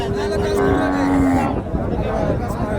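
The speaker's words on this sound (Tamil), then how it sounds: "இங்கேயும் அழகான 2 பசு மாடுங்க பாருங்கள்." Cattle at an outdoor livestock market in Krishnagiri district lowing, with two long drawn-out moos close by over a constant busy crowd murmur.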